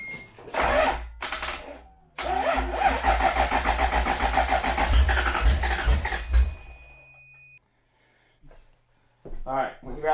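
A Toyota 1UZ V8 in a Cressida cranks in two short bursts, then in a longer labored churn of about four seconds that fails to catch. After a pause, a voice speaks.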